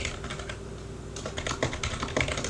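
A computer keyboard is typed on nearby in quick, uneven bursts of light key clicks, with a brief lull before a denser flurry.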